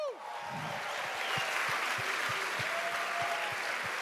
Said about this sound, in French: Merci au Gen Rosso. On les applaudit.